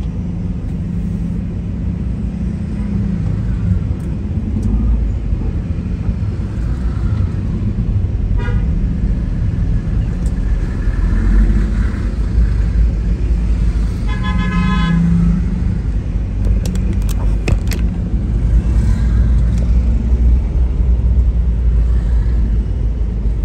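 Heavy traffic jam on a street in Makassar, with a constant loud rumble of engines and several car horn toots scattered through it, including a cluster of honks near the middle.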